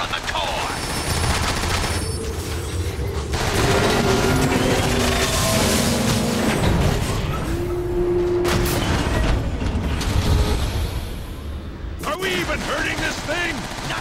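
Sustained gunfire in a Transformers: War for Cybertron co-op game, aimed at a machine's vulnerable core, with rapid loud bursts and booms running throughout amid game music and effects, while voices speak over the battle.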